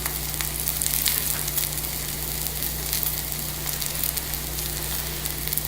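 Garlic hitting a hot pan with cooking chicken and rice pilaf ingredients: a dense, steady sizzle and crackle, close and fairly loud, over a low constant hum, with no talking.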